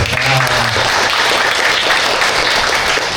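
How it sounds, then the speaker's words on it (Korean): Steady, dense clapping from a lecture audience in a hall, filling the short stretch at an even loudness, with a brief voice at the start. "박수 한번 쳐줘"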